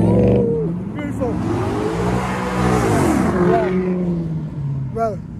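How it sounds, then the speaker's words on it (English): About 40 American cars rev their engines loudly and roar nearby, pitches climbing and falling as they overlap in a continuous throaty rumble. "there's about 40 cars, American cars, and they're all revving their engines"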